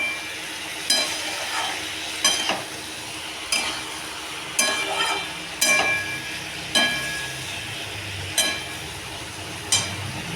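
Vegetarian curry, jackfruit dalna among the lunch dishes, is sautéed and stirred in a pan. A soft continuous sizzle runs under a regular series of sharp scraping stirs, roughly one each second, close and fairly loud with no talk.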